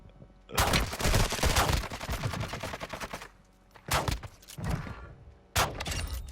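Shotgun blasts in a video game firefight, loud bursts of gunfire in three clusters with short gaps between, heard alone without voices.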